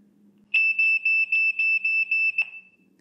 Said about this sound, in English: It can also trigger an alarm on the camera when motion is detected